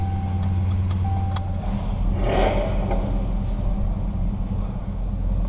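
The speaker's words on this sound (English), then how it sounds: "Let's fire it up." A 2016 Dodge Charger R/T Scat Pack with the 392 V8 at Texas Motor Speedway, heard as a loud, close, continuous deep engine rumble that rises in a brief surge midway and settles into a strong idle.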